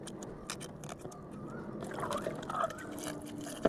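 Water poured into a bowl of hibiscus leaves, a soft close trickle and slosh that grows busier toward the end, faint and without speech.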